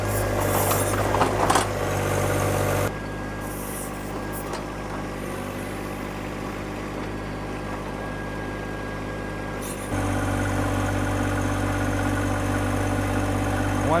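A Deere 1025R compact tractor with a backhoe ripper tearing up 3 to 4 inch asphalt: a steady engine drone with load shifts, a few scraping knocks early on, then a louder, heavier run near the end.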